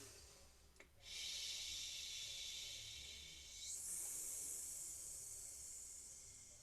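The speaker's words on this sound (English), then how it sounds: "So we're going to go take a nice breath in." A person takes a breath in, then exhales in a long, steady shh hiss that shifts brighter partway through, close and alone, as a calming breathing exercise.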